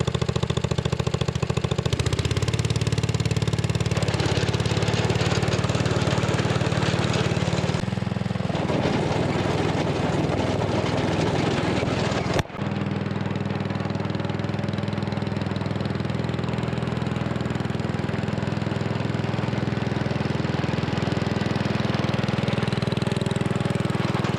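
A lawn tractor engine runs steadily and loudly throughout, its droning tone shifting partway through, with a brief clunk in the middle.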